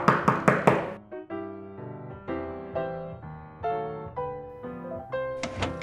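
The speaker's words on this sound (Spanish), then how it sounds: "mucho antes que Caperucita, y llamó a la puerta." A wolf knocks on the door of the grandmother's house in the Little Red Riding Hood tale: three or four quick, loud door knocks at the start, then music continues alone.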